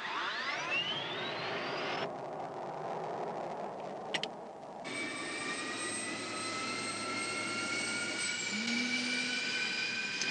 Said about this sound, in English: We only use one switch to turn on the battery and another switch to start the jet fuel starter.